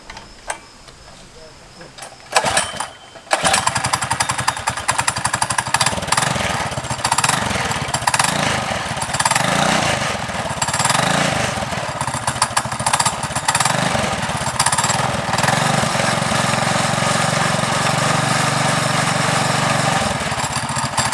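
Custom mini bike with a small single-cylinder engine that sputters, starts, and revs up at the start of a ride, then runs loud and buzzing with rising and falling throttle, close up.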